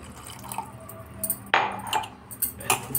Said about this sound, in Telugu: ఈ ముక్కలు మునిగే వరకు వాటర్ పోసుకోవాలి